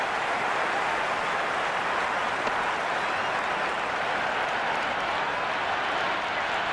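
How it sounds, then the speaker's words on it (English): Stadium crowd in the video game Cricket 26 applauding and roaring after a four is struck, a dense, steady wash of clapping and cheering held at full loudness throughout with no clear gaps. "It's evident and ever so audible that the crowd is at near bursting point at today's play."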